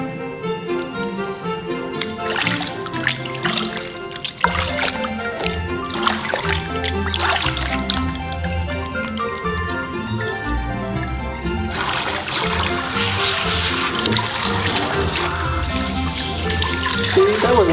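Tap water runs steadily into a tub while a Labrador puppy gets its first bath, with a person talking over the flow and a louder, broader gush in the last stretch.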